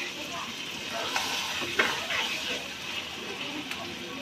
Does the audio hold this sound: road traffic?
no